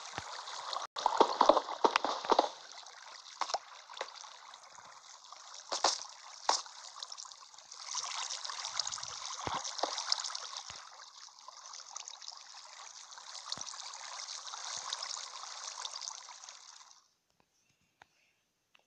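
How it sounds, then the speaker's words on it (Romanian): Flowing water in Minecraft, a steady trickling, streaming rush that runs for most of the stretch with a few scattered clicks, then cuts off near the end. "Deci apa asta mă enerva pe mine."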